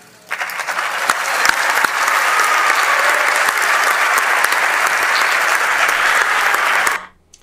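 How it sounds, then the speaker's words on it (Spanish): Members of the Mexican Senate applauding a senator taking office as chamber president, a sustained, even roar of many hands clapping that swells in quickly and cuts off abruptly near the end. "entre aplausos de sus compañeros"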